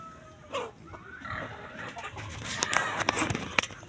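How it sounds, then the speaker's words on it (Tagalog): Pigs grunt and oink in short, irregular bursts near a pen being built for chickens, the noise rising toward the end, with faint clucks and some background voices. "Saba ng baboy."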